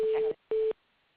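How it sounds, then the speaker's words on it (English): Two short electronic tones beep in a row over a phone line on hold during a board meeting conference call, a brief gap between them, then quiet line hiss. "Is the beeping I'm hearing just me, or is it something on our call?"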